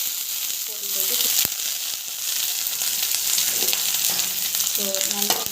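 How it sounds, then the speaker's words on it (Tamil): Onions sauté in hot oil in a pan with a steady, bright sizzle and a few stirring scrapes, while a faint voice briefly murmurs underneath. "ஆயில் கொஞ்சம் ஆட் பண்ணிக்கோங்க. ஆயில் வந்து காயிடும். ஸோ ஆனியன் வந்து"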